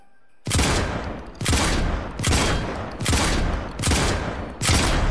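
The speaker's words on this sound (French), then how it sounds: "Donc voici quand je tire." A weapon fires in Fortnite Chapter 4 creative mode: five loud, booming shots at an even pace, each one ringing out before the next, with no voices.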